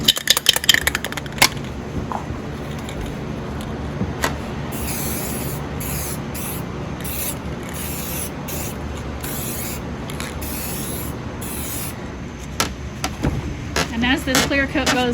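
Rust-Oleum clear coat sprays in long steady hisses onto a jewelry display stand built from fallen tree branches, close and continuous through the middle, with shorter bursts and handling knocks at the start and end.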